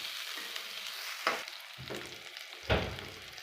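Onions sautéing in oil in a pan for a chicken curry, a soft ongoing sizzle punctuated by three distinct stirring scrapes against the pan, close and without speech.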